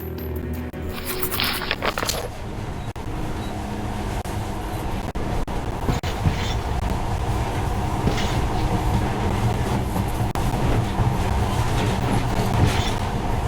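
A monorail train runs steadily in the video game Metro Last Light, a continuous rolling rumble with faint rail clatter that stays loud and even throughout, with no voices.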